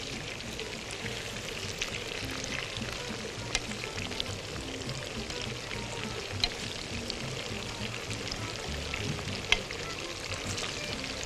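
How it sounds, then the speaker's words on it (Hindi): Fish in a spicy masala coating fries in hot oil, a steady close sizzling hiss with occasional pops and crackles that runs throughout the whole stretch. "तो एहतियात के साथ फ्राई करनी है, अच्छी तरह फ्राई हो जाने दीजिए"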